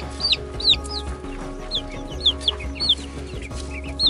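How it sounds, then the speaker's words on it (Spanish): A chick cheeps repeatedly in high, rising peeps, close by, with a low hum in the background and short gaps between calls. "Es un pollito."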